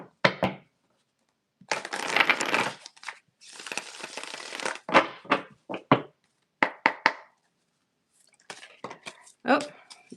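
Tarot cards shuffled up close in several quick papery bursts of riffling and flicking, broken by short gaps and sharp taps as the deck is squared.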